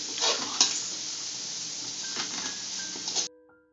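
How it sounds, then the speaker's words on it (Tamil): Capsicum and cabbage being sautéed together in a hot pan, producing a steady close sizzle with scraping stirs against the metal for about three seconds before cutting off, no talking. "கேப்சிகம், கோஸ், இது எல்லாத்தையும் ஒன்றா வதக்கலாம்."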